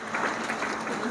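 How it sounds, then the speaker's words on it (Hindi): Audience at an International Yoga Day event in Barwala clapping to welcome the chief guest, a brief burst of steady, dense applause at moderate volume. "जोरदार तालियां बजती रहनी चाहिए।"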